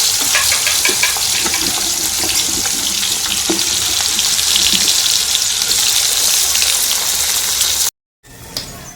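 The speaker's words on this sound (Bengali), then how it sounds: "প্রথমে পটলগুলো দেব সবজিগুলো দেখে ভেজে নেবো" Pointed gourd (potol) pieces frying in a pan, a loud, continuous bright hiss of oil with occasional stirring clatter, ending in a short silence before a brief resumed sizzle.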